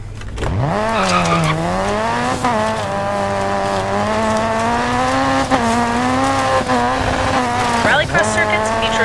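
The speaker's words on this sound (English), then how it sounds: "Rallycross car, about time." A rallycross car in DiRT 4 roars loud and steady, the engine note climbing and dropping through gear changes with brief tire squeals across the surfaces.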